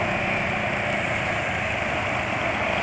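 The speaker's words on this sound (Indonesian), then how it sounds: "Kalau ya motor bensin ini kan suaranya bervariasi." A petrol motorcycle engine idling steadily, a continuous even hum with a slight rattle, close by and unchanging, with no voices.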